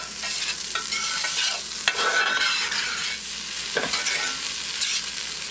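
A metal spoon scrapes and stirs shrimp fried rice in a hot pan, with continuous sizzling frying and repeated harsh scraping strokes up close, and no voices.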